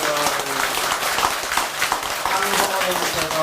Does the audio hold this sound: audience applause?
yes